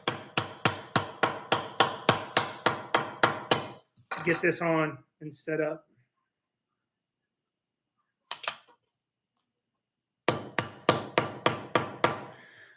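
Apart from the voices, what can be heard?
hammer tapping Mould King building pieces into place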